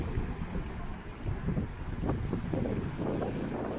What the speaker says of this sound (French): aujourd'hui il fait beaucoup de vent, du coup la mer est un peu déchaînée